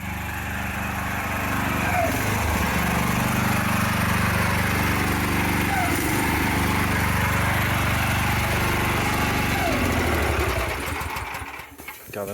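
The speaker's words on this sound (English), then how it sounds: "the machine's like surging really violently" A small petrol engine driving a pressure washer with a surface cleaner on sandstone runs loud and close, its drone rising and falling unevenly as it surges, then cuts out near the end.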